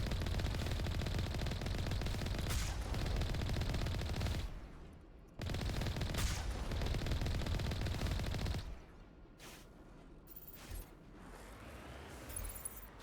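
Sustained bursts of heavy automatic fire and cannon blasts from the modded game Mass Effect on Feros, loud dense rattling that cuts out briefly, resumes, then gives way to sparser isolated shots.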